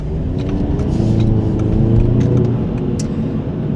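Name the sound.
Audi TT Coupe 2-litre engine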